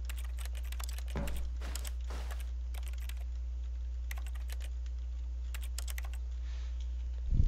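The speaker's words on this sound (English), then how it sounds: "Listen, you can still hear the typing." Bursts of keyboard typing in the video game The Stanley Parable, quick clustered keystrokes in several runs over a steady low hum, close and clear with no talking.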